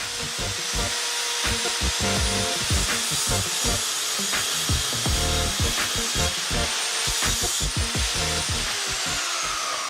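A hand saw cuts through wooden planks in quick, rhythmic back-and-forth strokes, close and steady with a raspy grinding texture for the whole stretch.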